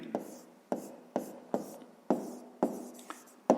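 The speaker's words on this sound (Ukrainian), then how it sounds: "Записуємо." Pen writing in a notebook during a 5th-grade maths exercise, quiet scratchy strokes in short repeated bursts with sharp taps about every half second, close and soft.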